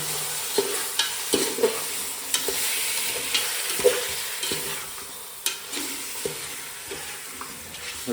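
Chicken and onions sizzle in a handi pot for Mughlai chicken and are stirred steadily, with repeated scraping strokes and soft knocks rising above a continuous frying hiss.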